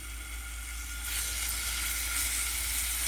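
Pork stew meat fries in oil in a new skillet on a home stove, giving a steady, close sizzle and hiss that grows slightly louder partway through, with no talking.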